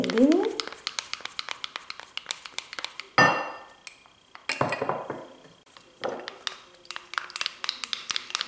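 Egg face mask stirred briskly in a bowl, a utensil clinking and scraping against the sides in quick repeated taps, close and fairly loud, with someone speaking at times over it.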